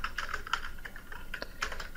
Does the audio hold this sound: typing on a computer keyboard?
yes